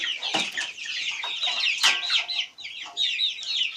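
Several chickens cluck and squawk close by, a busy overlapping chorus with no talking.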